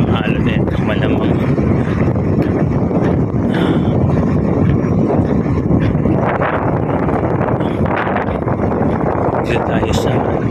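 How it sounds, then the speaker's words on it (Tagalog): Strong wind buffets the microphone on a boat at sea in rough weather, a loud continuous roar with rushing surges of large waves throughout. "Malakas ang alon nito. Malakas ang hangin. Malalaki ang alon nito."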